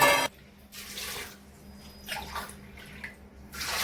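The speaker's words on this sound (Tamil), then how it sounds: "இதுல ஒரு 2 டம்ளர் தண்ணி ஊத்துறேன்ப்பா." Water poured into a cooking pot while making a broad bean and grated coconut stir-fry, a soft splashing stream that starts and stops in short bursts with quiet gaps between.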